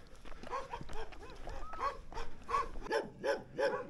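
Several large dogs bark from nearby along a rural roadside in Turkey, a run of sharp, repeated barks that grow more frequent and closer together toward the end, with some yelping among them.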